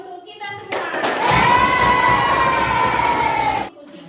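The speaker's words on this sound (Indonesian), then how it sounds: "tepuk tangan untuk kita semua" Children in a classroom clap their hands together in a sustained burst of fast clapping mixed with excited voices and cheering, starting abruptly and stopping sharply a few seconds later.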